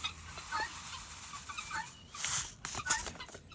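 Chickens and guinea fowl cluck and squawk in scattered bursts, fairly faint, with a few sharper calls standing out near the end.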